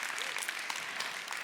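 Brief audience applause at a keynote address, a steady patter of many hands clapping, moderately loud and even for a moment and a half.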